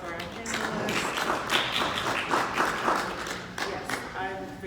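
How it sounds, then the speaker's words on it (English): Audience clapping for panelists at a cannabis equity conference, uneven and moderately loud, with a voice speaking over the applause throughout. "Round of applause for our panelists."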